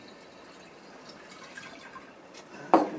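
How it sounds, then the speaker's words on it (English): Vinegar is poured into a dirty Porsche 944 headlight housing: a quiet lead-in, then one short, close liquid splash near the end. "I'm just going to start by pouring in, I think, some vinegar to that"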